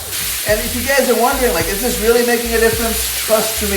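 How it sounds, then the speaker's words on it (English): Lamb pieces sizzle in a pan with onion masala, a loud crackling fry with stirring scrapes throughout while someone talks over it. "And that sizzling noise you hear, that's what we wanna hear throughout."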